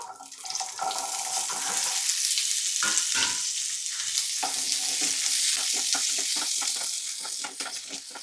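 Shallots sizzle in hot oil, a loud, continuous bright hiss close up, with occasional stirring clatter and scraping underneath, no speech throughout.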